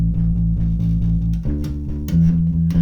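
A bass guitar plays the first two bars of a song's chorus, a run of steady plucked low notes that shifts to a new pitch midway, played alone and up close.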